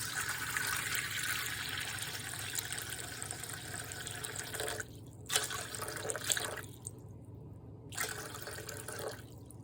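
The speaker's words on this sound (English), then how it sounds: "750 grams of warm water." Warm water runs steadily from a tap, then stops and starts in short bursts with a few drips in between.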